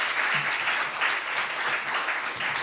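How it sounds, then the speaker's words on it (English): Audience applause fills the room at a tech meetup presentation night, a steady, dense wash of clapping that holds at an even level throughout without gaps. "So give them a big round of applause."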